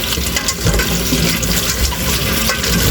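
Sweet potato leaves are washed under running water, giving a loud, continuous close rush and splash with no talk.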